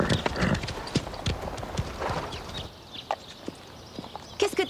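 Horse hooves clip-clop at a steady walking pace on firm ground, close and fairly loud, with a faint snort or whinny among the steps and a quieter gap before a few final footfalls.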